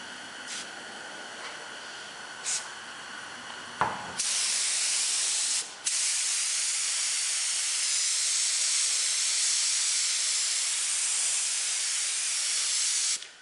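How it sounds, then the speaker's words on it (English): Spray bottle squirting a lighter-colored paint mixture onto metal for a rust effect: a few short spritzes, then a long, loud, continuous hissing spray close by with one brief pause, no talking. "So I'll squirt this on."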